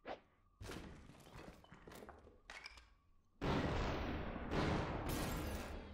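Gunfire in the slow-motion shooter game Superhot, with dull thuds and sharp bursts separated by whooshing swells, then a loud, sustained noisy rush with repeated impacts, no talk.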